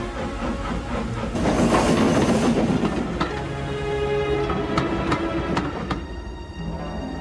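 A steam engine train rolls along with a broad hiss of steam and a rumbling, rattling run of wheels and carriages, loud at first, then settling into rhythmic clanks and clicks.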